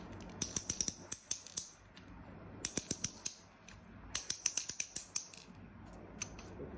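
A gachapon capsule toy machine handle being turned, producing bursts of crisp ratcheting clicks in quick runs of four to six, separated by short pauses, close and fairly quiet with no talking.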